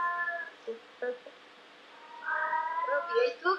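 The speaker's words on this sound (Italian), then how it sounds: "Proprio il tuo gatto." A small house cat mews several times, in short high calls that turn into a longer wavering meow near the end. The sound is indoors and close, and a few brief voice sounds come from the room.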